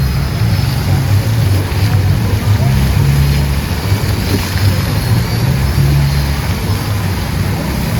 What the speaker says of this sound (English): I was so impressed with this waterfall and firework